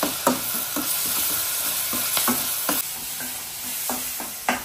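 Tomatoes with salt and turmeric sizzle and sauté in a pan, with repeated scraping stirs and light clinks of a spoon against the metal at irregular intervals.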